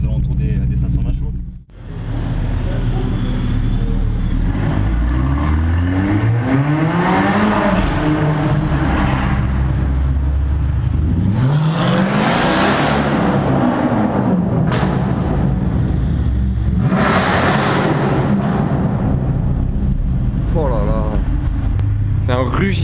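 Mercedes-AMG C63 engine roaring up close, repeated rising revs and throaty acceleration swells over a continuous rumble, with people talking throughout.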